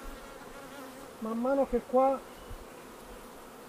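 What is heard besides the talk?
honey bees buzzing at an apiary hive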